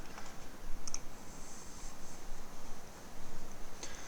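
Computer mouse clicks in a quiet room, a quick double click near the start and a single sharp click near the end, crisp and close.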